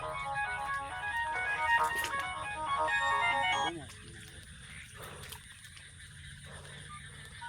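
A phone ringtone plays a repeating electronic melody for a few seconds, then stops, leaving quieter background noise with people talking.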